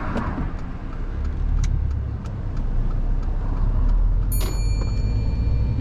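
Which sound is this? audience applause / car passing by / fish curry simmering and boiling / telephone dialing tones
car passing by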